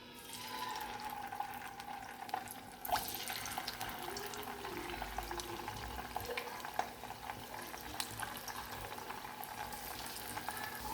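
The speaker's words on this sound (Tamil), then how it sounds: "இப்போ எல்லாம் போட்டாச்சு. பொரிஞ்சிட்டு இருக்கட்டும்." Marinated salmon pieces deep fry in oil, a soft steady bubbling hiss that gets fuller after a few seconds and carries on quietly, with no voices.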